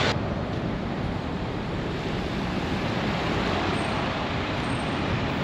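Steady, dense roar of traffic rushing beneath the huge Daisan Keihin expressway overpass in Kawasaki, a continuous broadband wash with wind-like texture and no distinct passes or voices.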